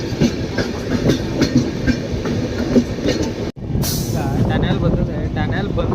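A passenger train rolls along the Sakleshpur–Subramanya line with a continuous rumble and rhythmic clatter of wheels, heard from on board, while people talk over it and a short sharp burst cuts in midway.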